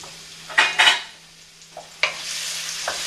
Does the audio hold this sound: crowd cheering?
no